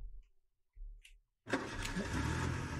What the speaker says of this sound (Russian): Заводим автомобиль, включаем скорость и поехали.